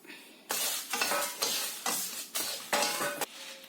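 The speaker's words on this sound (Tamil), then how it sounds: "இப்ப வந்து நாங்கள் லைட் கீட்டில தான் செத்தமிளகாய் வறுக்க போறோம்" Dried red chillies dry-roast in a pan over low heat for Burmese atho, tossed in about six rhythmic scraping strokes that rise and fade, close and fairly loud, with no talking.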